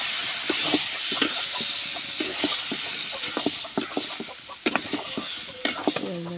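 Chili tempering in hot oil in a village Bengali kitchen, a steady hiss of sizzling with irregular pops and clinks of a utensil against the pan, moderately close and alone.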